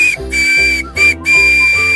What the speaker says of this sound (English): if you flipped him over to his backside, you will see that he doubles as a whistle